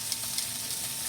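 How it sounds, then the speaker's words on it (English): Pork tenderloin searing in a hot pan, giving a steady, moderate sizzle with a couple of soft stirring or shifting sounds, close by and without talking. "we're going to sear each side nice and crispy"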